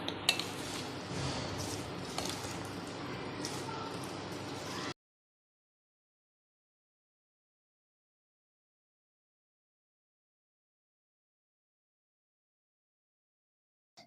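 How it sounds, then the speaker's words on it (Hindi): Boiled potatoes, chopped carrots and salad ingredients being stirred together in a bowl for a Russian salad, giving a few seconds of clinking, scraping utensil sounds with soft squishy mixing, then silence. "अब सब चीजों को हम अच्छे से मिक्स कर लेंगे।"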